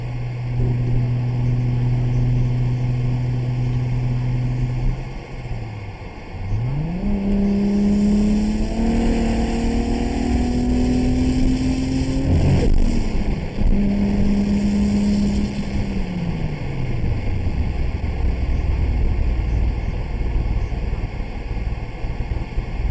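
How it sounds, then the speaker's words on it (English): Turbocharged MK4 Toyota Supra engine in the GTA 5 driving sim, alone and loud: a steady idle, then a climbing rev that holds high, cuts out abruptly and winds back down, with a brief dip near the start. "Let y'all hear some more noises from the car."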